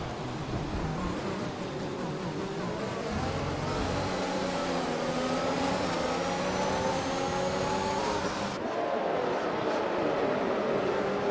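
A Formula 1 car spinning out at Monza in a racing game: a steady high engine whine with sweeping pitch shifts and tyre noise, then a sudden change as the car loses grip, with no voices.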